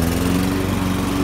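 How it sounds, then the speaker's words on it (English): A gas lawn mower engine drones steadily and loudly up close, a constant throbbing hum with no pauses across the short stretch. "I finally figured out how to crank up a lawnmower"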